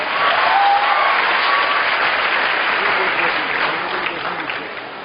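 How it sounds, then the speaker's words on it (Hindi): Sustained applause from an audience at a book launch event in Patna, steady and dense clapping for a young performer that fades slightly toward the end. "इस नन्ही प्रतिभा के लिए और जोरदार तालियां।"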